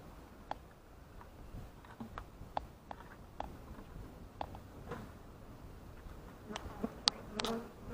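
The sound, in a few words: swarm of bees buzzing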